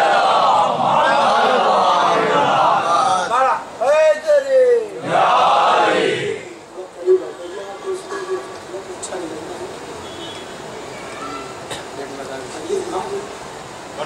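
A Muharram majlis congregation chants slogans and salawat together, a loud massed call in the opening seconds, then the hall settles into quieter murmurs and scattered sounds.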